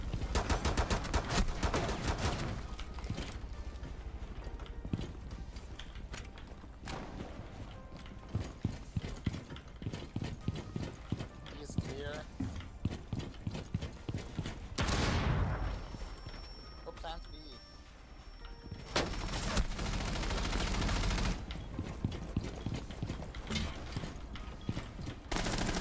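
Rapid bursts of gunfire in Rainbow Six Siege, shots tearing through walls in dense clattering volleys with short pauses, mixed with sharp mechanical clicks and impacts, loud and close, plus a brief whooshing surge midway.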